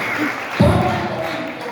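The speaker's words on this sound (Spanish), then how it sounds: "Dale fuerte el aplauso a Jesucristo." A church congregation bursts into applause partway through, a short, dense clapping swell rising from a quieter room and holding steady.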